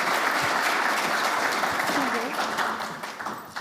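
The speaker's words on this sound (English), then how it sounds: "Round of applause, please." Steady, dense applause from an audience following a conference talk on cloud-native geospatial infrastructure, continuous throughout and tapering slightly at the end, with a few voices mixed in.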